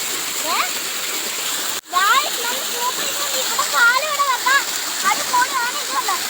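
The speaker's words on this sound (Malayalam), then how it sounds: "ഇവിടെ തോട് പോലാണ് നല്ല തെളിഞ്ഞു തെളിഞ്ഞു" Water flows and splashes steadily in a small, clear stream, with birds chirping over it and a brief interruption partway through.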